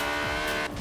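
A Honda S2000 engine in the Forza racing game, held at high revs, gives a loud, steady, harmonic mechanical whine for under a second.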